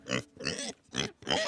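Four quick grunting oinks from a pig, close and loud, coming in a rapid uneven rhythm.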